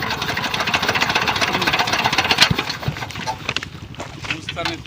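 A shallow irrigation pump engine in a village chugs steadily with a rapid, rough knocking rhythm, loud and close, while people talk over it, before the running sound thins out toward the end.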